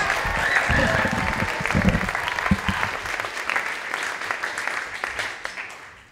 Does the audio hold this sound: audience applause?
yes